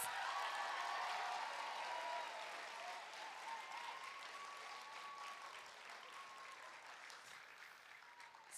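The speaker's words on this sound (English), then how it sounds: "Everyone give him a big round of applause" An audience applauds an indie folk singer-songwriter after a live performance streamed online, a soft, continuous patter of many clapping hands that tapers gently over eight seconds, faint and without voices.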